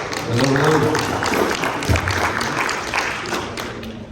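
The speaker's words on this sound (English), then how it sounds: "Round of applause." Conference audience applauding as the next speaker takes the stage at a financial talk, a steady wash of clapping with a few thumps and a voice briefly audible over it.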